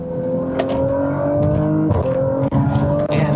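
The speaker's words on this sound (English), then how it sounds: "The other thing is this V6 sounds incredible." A 2018 Audi RS5 with a V6 engine accelerating, its steady engine drone rising in pitch with a brief shift dip partway through, heard loud and continuous from inside the car.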